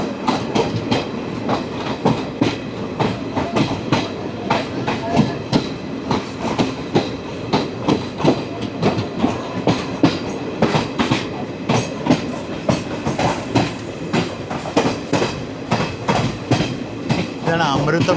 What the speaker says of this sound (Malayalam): ഇതാണ് Varanasi junction, Mysore junction super fast.